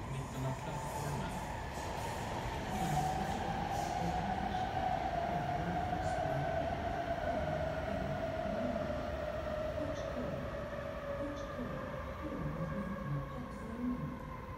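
Commuter train at Stockholm Odenplan station: a loud, steady rumble with a sustained tonal hum that runs continuously throughout, swelling slightly in the middle.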